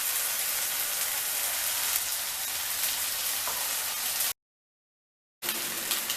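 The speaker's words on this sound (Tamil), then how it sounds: "இந்த பாஸ்மதி ரைஸை வந்து எல்லாத்தையும் ஆட் பண்ணி மிக்ஸ் பண்ணிடலாம்." Basmati rice and vegetables being stir-fried for veg fried rice: a loud, steady hiss of frying, constant and close, cut off briefly by a moment of silence before resuming.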